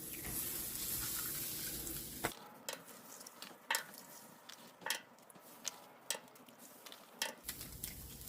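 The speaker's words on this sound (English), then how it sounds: "So now I'm going to add the eggs." Eggs cracked onto hot chorizo in a pan for breakfast tacos begin with a loud burst of sizzling that cuts off sharply. Then come quiet ticks and clicks, with a faint sizzle in the background.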